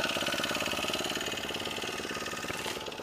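The small engine of a powered BikeE2 recumbent bicycle idles on a test stand with the transmission switched off. The steady, rapid putter is close and even for the whole stretch, with no talking.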